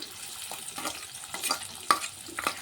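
Greens frying in mustard oil in a karahi with crushed garlic, onion and cumin, a steady soft sizzle broken by several brief scraping stirs, close and moderately quiet, with no talking.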